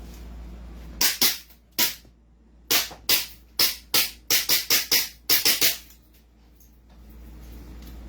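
CZ Shadow 2 pistol firing at an indoor range, roughly a dozen sharp, loud shots in irregular bursts with brief pauses, close up over a low steady background hum.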